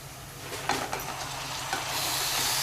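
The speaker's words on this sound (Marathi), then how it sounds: "आता मी हे व्यवस्थित परतून घेते आणि हे तेलामध्येच थोडं व्यवस्थित असं परतून घ्यायचं" Mutton pieces sautéed in a small amount of hot oil for a spicy Malvani curry give a steady close sizzle and hiss, with a few sharp stirring scrapes and clatters along the way.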